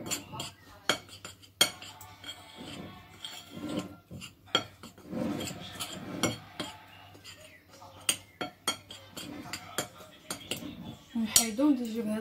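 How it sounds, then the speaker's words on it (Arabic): A utensil mixes ingredients in a bowl, giving repeated close scraping and clinking strokes in an irregular rhythm, with a few sharper knocks against the bowl. "غادي نخلط الكل بحال هكا"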